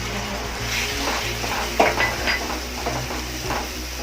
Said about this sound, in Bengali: এবার ভালোভাবে মশলাগুলোকে কষতে হবে